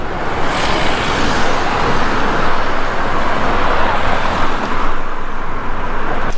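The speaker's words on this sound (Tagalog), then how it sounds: "Dami sasakyan, mahirap tumawid." Steady, dense street traffic in an Italian neighbourhood, cars and buses rumbling continuously close by with no break in the flow.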